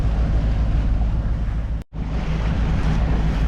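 Motorboat cruising at sea under engine power off the coast near Gruissan, a steady loud roar of engine, wind and water rushing past with one brief dropout midway, no voices.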